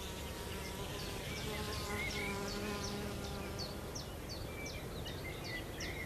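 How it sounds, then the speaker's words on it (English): A hummingbird hawk moth hovers at meadow flowers, giving a faint, steady buzzing hum that continues unbroken throughout. "the hummingbird hawk moth. It's often mistaken for a colibri, as, like the hummingbird, it also hovers"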